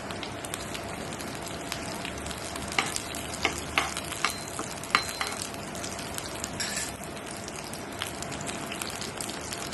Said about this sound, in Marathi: त्याच्यामध्ये मी आता कढीपत्ता टाकते फोडणीला। तेल तापलेलं आहे आपलं मस्तपैकी।